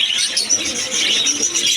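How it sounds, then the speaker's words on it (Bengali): Pigeons, including Teddy and high-pillar breeds, in a bustling pigeon market in Khulna, chirping and fluttering closely and continuously, with wing flaps and calls overlapping. "বিভিন্ন রকমের কবুতর রয়েছে এখানে।"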